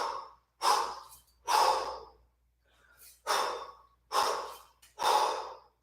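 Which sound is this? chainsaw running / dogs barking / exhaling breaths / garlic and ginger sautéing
exhaling breaths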